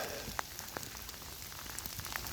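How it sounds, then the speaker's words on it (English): Steady rain hissing on a surface, with scattered drops tapping nearby; a dense, even wash of sound with nothing else. "What can you say? It's raining."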